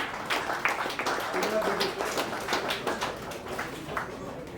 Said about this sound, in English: Please keep the claps going.